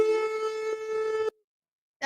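A steady electronic siren tone from a noise machine sounds alone for just over a second, then stops abruptly into silence before a brief burst at the very end.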